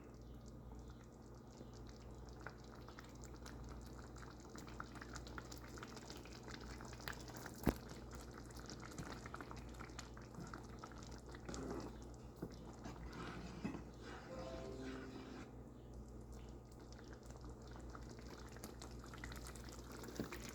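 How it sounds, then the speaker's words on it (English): Pink pasta sauce simmering in a pan, a steady low bubbling and gentle sizzle running continuously at close range, with a brief sharp click partway through and no talking. "So now you can see my sauce is showing bubbles"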